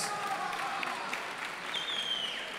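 Crowd at a TFC2 fight event applauding after the TKO winner is announced, a steady wash of clapping and cheering at moderate distance throughout, with no speech over it.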